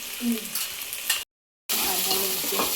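Onion frying in a pan while cooking a Konkan jackfruit vegetable dish, a close steady sizzle with light stirring scrapes, interrupted by a brief total silence midway before resuming.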